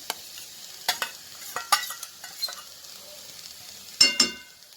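Boneless makhni chicken being stirred in a pan, with scattered scraping clicks and knocks of a utensil against the pan over a soft sizzle, louder clattering strokes near the end.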